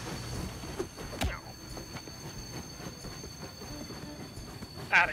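A train running in the video game Party Animals, a steady rumbling rail clatter with occasional metallic squeals and clicks, moderately close and continuous.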